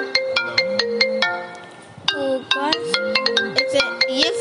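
A phone ringtone rings inside a video game, a bright electronic melody of repeated short tones in quick bursts with a brief pause midway, loud and close, no talking over it.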